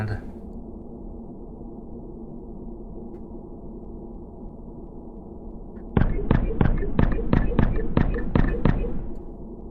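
A steady low rumble, then from the midpoint a rapid series of about a dozen sharp booming blasts in quick succession, loud and close, as satellite weapons blow up Mars in a video game.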